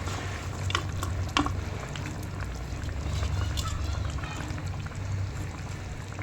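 Fried small fish tipped into pumpkin frying in a pan for a rustic village dish, a steady sizzle and bubbling with soft stirring scrapes, close and continuous.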